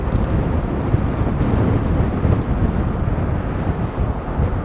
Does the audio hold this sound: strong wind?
yes